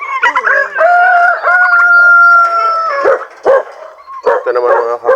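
Plymouth Rock and Rhode Island cross chickens in a backyard flock give loud, drawn-out calls with a crow-like tone, followed by several short, choppy clucks and squawks near the end.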